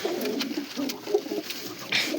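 Soft, low pigeon cooing repeats in a few gentle pulses against a quiet, airy background.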